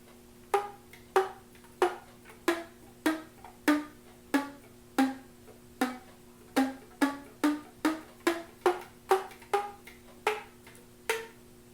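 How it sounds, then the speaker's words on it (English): Flute keys slapped as a percussive effect in the instrument's lowest register, giving a brisk run of about two dozen sharp, resonant clicks with a short pitched ring, close and clear with no voices. "basically done by the flute player using the keys of the flute as a percussive or percussion instrument"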